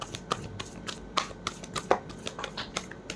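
Tarot cards are shuffled and drop in quick, soft, papery flicks and taps, a close, faint string of irregular little clicks with no talking.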